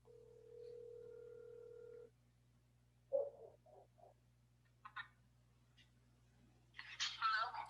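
A phone places a call: a steady dial tone for about two seconds, then a short burst of dialing tones, with faint voices and a louder voice near the end.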